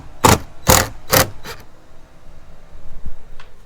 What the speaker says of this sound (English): Just unscrew that Phillips screw.